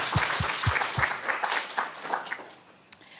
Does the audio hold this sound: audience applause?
yes